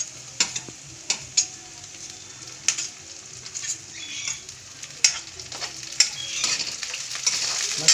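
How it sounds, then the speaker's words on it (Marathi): Green chillies fry with onions in a pan, a soft steady sizzle broken by repeated scraping and stirring clicks of a utensil against the pan, close and fairly quiet. "तर मिरच्या टाकते आहे."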